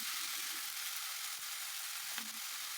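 Chicken pieces fry in a pan alongside garlic and chili, giving a steady, fairly quiet crackling sizzle with a brief scrape of the pan partway through.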